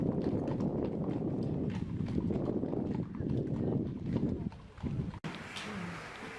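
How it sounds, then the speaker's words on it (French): Hooves of a horse-drawn carriage clip-clopping in a steady rhythm at a historical reenactment at the château of Rambouillet, fairly close and loud with outdoor background noise, the sound thinning near the end. "Nous avons d'abord été accueillis par l'empereur qui sortait en calèche"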